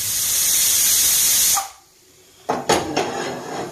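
A pressure cooker cooking chickpeas lets out a loud, steady steam hiss for about a second and a half, then falls quiet before a few sharp metallic clatters close by.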